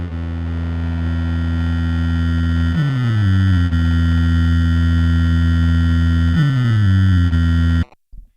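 A Boss RC-505 loop station's lo-fi effect holds a steady, loud buzzing tone with strong harmonics, briefly dipping and bending in pitch twice before cutting off abruptly at the end.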